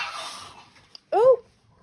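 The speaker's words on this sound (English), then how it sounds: "My cat has just attacked my puppy." A puppy growls and whines in a short, loud burst as a cat attacks it indoors, after a stretch of rustling and near silence.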